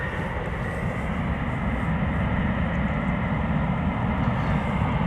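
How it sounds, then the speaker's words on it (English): A KLM Airbus A330-300 jet departs Amsterdam Schiphol Airport, bound for Houston, Texas, under showery winter skies, giving a steady, broad engine roar and rumble that holds at an even loudness throughout with no voices. "KLM flight 661 to Houston, Texas, A330-300"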